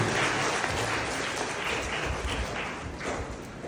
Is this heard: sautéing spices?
no